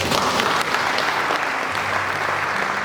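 An audience at a university valedictory lecture claps in a sustained, loud, dense round of applause that holds steady throughout.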